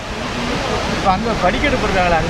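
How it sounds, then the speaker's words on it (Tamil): Rushing waterfall in Badulla, Sri Lanka, its steady broadband roar running continuously throughout, with a person talking over the falling water. "ராவண தேசத்தில் இருக்கிற ஒரு வாட்டர் ஃபால்"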